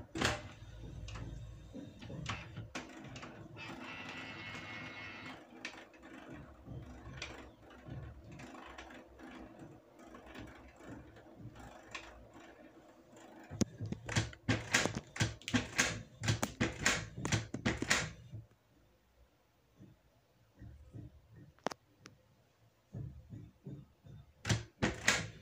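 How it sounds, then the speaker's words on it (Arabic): A Canon PIXMA MG2540s-series inkjet printer runs a print job, with whirring carriage movement and a burst of rapid mechanical clicks and clacks, then quieter pauses and a few final clatters. "والآن سنقوم بعملية الطباعة. سنقوم بالضغط على زر بلاك."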